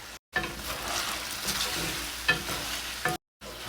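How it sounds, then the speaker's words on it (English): Drunken noodles with tomatoes stir-fried in a pan: a steady sizzle with scraping stir strokes throughout, broken by two short silent gaps, no voices. "Give it a gentle push and stir carefully, evenly coating the noodles for a nice gloss."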